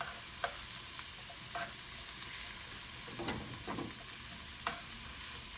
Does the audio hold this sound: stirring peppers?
yes